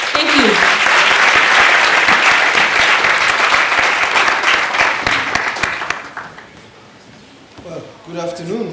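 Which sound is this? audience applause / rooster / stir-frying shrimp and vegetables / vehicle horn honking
audience applause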